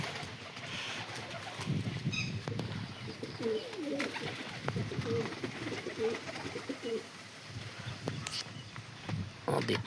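Pigeons coo nearby in low, rolling calls, with people talking in the background and occasional rustling and clicks.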